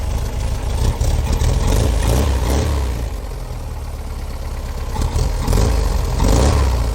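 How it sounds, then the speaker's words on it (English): A Volkswagen Type 3 air-cooled engine idles cold just after starting, a loud, close, rough drone with uneven swells, as if it hunts to keep its idle. "This car is always started up nice and easy."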